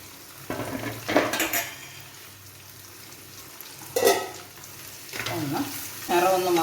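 Onions frying in oil in a pan while cooking a Kerala pork roast, a soft steady sizzle broken by several scraping stirs and clinks of a spoon against the metal pan.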